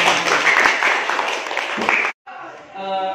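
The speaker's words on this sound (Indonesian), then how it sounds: "kasih tepuk tangan dulu" Applause from a group at an academic coaching session, a couple of seconds of lively clapping that cuts off abruptly, followed by a brief tonal sound.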